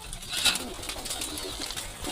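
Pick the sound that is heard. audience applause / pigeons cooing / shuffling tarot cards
pigeons cooing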